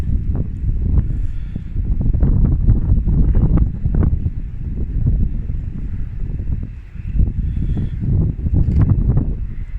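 Strong, gusty wind buffets the microphone outdoors on a breezy day along Scotland's NC500 route, a loud continuous low roar that rises and dips without a break.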